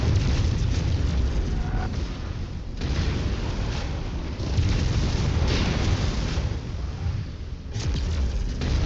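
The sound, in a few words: ammo cooking off in an explosion in the video game MechWarrior 5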